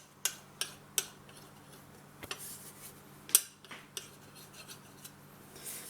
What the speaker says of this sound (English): holding your pie dish, use the back of the knife to just make a up and down motion to